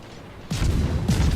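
A deep naval cannon blast in World of Warships booms at about half a second, and a second heavy shot follows roughly half a second later, both loud and rumbling.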